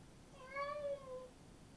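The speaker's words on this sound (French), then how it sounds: "Oh mince, c'est un chat." A single soft, drawn-out cat meow from Minecraft, faint and alone against a quiet background.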